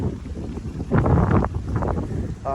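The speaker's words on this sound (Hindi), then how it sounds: "हवा चल रही है" Wind blows outdoors near a waterfall and buffets the microphone in loud, rumbling gusts that swell and fade, with no voices over it.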